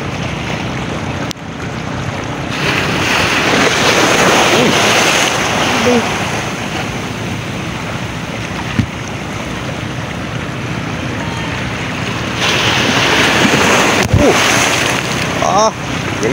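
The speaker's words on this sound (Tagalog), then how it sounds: "Galit na naman yung alon eh." A rough sea surges and crashes steadily around a small boat on a fishing trip, with heavy wind buffeting the microphone throughout and a few soft knocks; no clear talk is heard.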